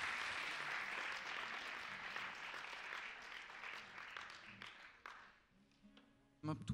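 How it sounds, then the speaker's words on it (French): Audience applause for a singer at the Prix Moustaki 2021 concert, a fairly distant, full round of clapping that thins and fades out, followed by a brief sound near the end. "on l'applaudit"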